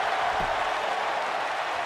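A wrestling video game crowd in AEW roars and cheers at a loud, steady level, a dense continuous wash of noise with no breaks.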